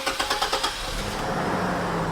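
A GM SUV with an inline-six 4200 engine cranks with a rapid rhythmic starter chug for under a second, then catches and settles into a steady idle hum, close by with no voices.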